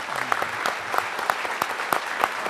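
An audience applauds Oakland Mayor Jean Quan at an event, steady dense clapping with sharp individual claps standing out throughout.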